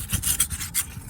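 A brittle roof shingle tears as a flat trowel pries up its sealed edge, making a short burst of close, dry, ripping scrapes in quick uneven pulses.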